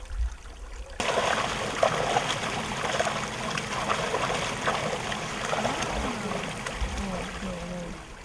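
Continuous water splashing and trickling nearby, with faint voices talking underneath.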